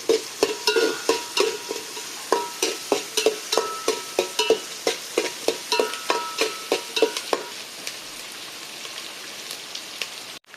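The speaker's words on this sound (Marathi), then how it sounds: "परतून घेऊ कांदो जो पर्यंत तांबडो जावंक जो" Onions sauté in a pan for banana flower bhaji, with a rhythmic run of close spatula scrapes and stirs over a soft sizzle that thins out near the end, no one speaking.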